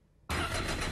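An engine, likely a snowmobile on a winter trail, fires up abruptly after a brief quiet moment and settles into a loud, steady running roar that fills the rest of the clip.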